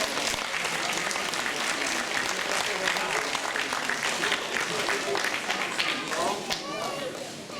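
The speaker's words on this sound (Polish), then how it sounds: "Wielkie brawa oczywiście dla laureatów" Steady, full applause from an audience for the winners at a city youth competition prize ceremony, dense and continuous, with voices murmuring underneath.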